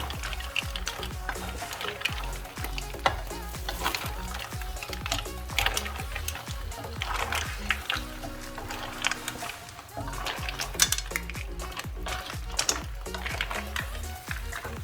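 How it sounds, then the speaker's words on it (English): Mussels are stirred in a garlic butter and white wine sauce. The shells clatter and click steadily over a soft bubbling simmer. "let's add our mussels. Give these a nice mix through."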